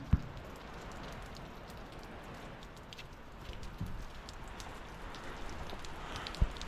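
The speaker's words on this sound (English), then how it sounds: "I can hear the rain coming down" Steady, soft rain patters on a surface outdoors at a tree farm, with a couple of sharper drips standing out near the start and end.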